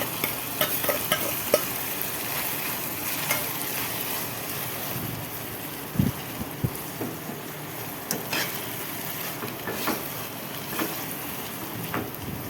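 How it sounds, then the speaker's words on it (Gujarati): Chopped tomatoes frying in hot oil in a pan for a Kathiyawadi green chili and tomato chutney, a steady soft sizzle throughout with occasional louder pops and stirring clatters. "અને થોડી વાર આપણે તેલમાં સડવા દઈશું હવે"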